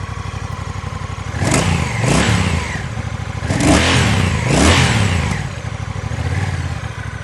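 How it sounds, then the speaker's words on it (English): A Honda CMX1100 cruiser with a DCT gearbox runs at a steady idle, then is revved three times in quick swells, loud and close with no talking. "we'll start her up, give her a little rev"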